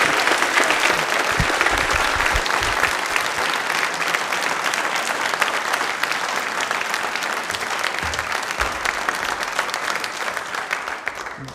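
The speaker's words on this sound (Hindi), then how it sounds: "तालियां विशेष के लिए जोरदार हो जाए।" A studio audience at a televised quiz programme for Ambedkar Jayanti bursts into loud, steady applause for a contestant, a dense unbroken wash of clapping that holds for the whole stretch and eases only slightly at the end.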